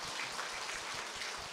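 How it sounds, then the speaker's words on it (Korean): A church congregation gives a brief round of applause, a dense, steady patter of many hands clapping together, soft and somewhat distant. "우리 박수 한번 쳐드릴까요?"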